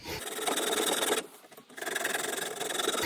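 Junior hacksaw cutting a line across a brass plumbing compression olive, close rasping strokes in two bursts separated by a brief pause, no talking.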